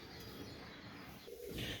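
Kalshira teddy pigeons cooing softly, low murmuring coos over a steady rumbling background, with one slightly louder coo near the end.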